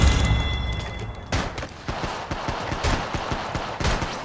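Gunfire in the mobile battle royale game Apex Legends Mobile, a rapid automatic burst of sharp repeated shots in an even rhythm following a brief lull, loud and close with no talking.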